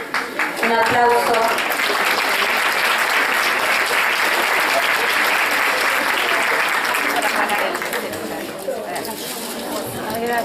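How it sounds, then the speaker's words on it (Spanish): Steady audience applause in a room, sustained and loud for the full length, with some chatter and voices mixed into the clapping. "Un aplauso."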